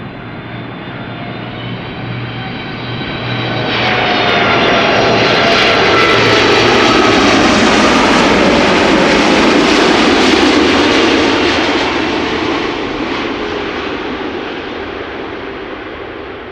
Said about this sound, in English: I'm expecting the reversers to be deployed